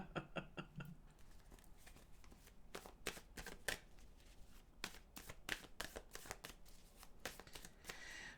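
Tarot cards being shuffled by hand, a steady run of soft crisp riffling slaps repeating quickly and close, quiet and alone with no talking.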